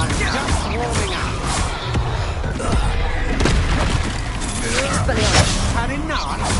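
Confringo blasting spells exploding in Hogwarts Legacy combat, loud booming bursts and crackling impacts in quick succession, mixed with dense game effects and voices shouting throughout.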